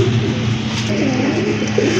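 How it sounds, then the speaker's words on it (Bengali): A pair of Rajgolla pigeons coo nearby in soft, continuous low throaty calls, loud and close, with no talking. "মার্শাল্লাহ আরেক জোড়া কবুতর রাজগোল্লা কবুতর খুবই সুন্দর মার্কিং"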